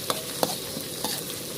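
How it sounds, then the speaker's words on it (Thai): Southern Thai curry paste being stir-fried in hot oil in a pan, a close steady sizzle broken by a few sharp spatula scrapes and knocks, without speech. "ผัดให้เครื่องแกงหอม ให้สุกเลยนะคะ"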